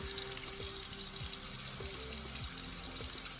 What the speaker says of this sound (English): let's rinse it with warm water.